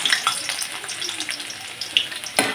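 Garlic dropped into hot oil in a kadhai sizzles and crackles continuously, a close bright frying hiss with small spits and pops, no talking.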